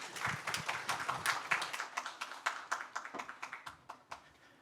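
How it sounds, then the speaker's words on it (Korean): Audience clapping for a cadet stepping forward at a workplace-mission academy admissions briefing, a fairly quiet, scattered patter of individual claps that thins out and spaces apart toward the end. "3기 이원재 생도님 나오실 때 큰 박수 부탁드리겠습니다."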